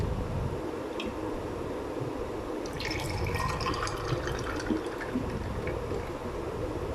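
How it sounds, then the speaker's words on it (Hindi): Mango squash poured over ice cubes in glasses, with a steady trickling liquid stream and faint clinks from the ice, all fairly soft and close. "ग्लासेस में डाल लेंगे हम आइस क्यूब्स और इसमें डालेंगे टेस्टी मज़े का यमी जो हम लोगों ने रेडी किया है मैंगो स्क्वैश"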